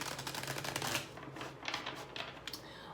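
Tarot cards shuffled by hand in a quiet room, a fast run of crisp papery riffles and flicks lasting a few seconds, close and fairly soft, with no talking.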